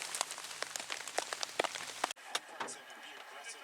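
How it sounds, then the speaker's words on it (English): Rain patters onto a surface at night during a deer hunt, a dense run of close drips and taps that thins out briefly before continuing more softly. "It rained the entire time and didn't stop."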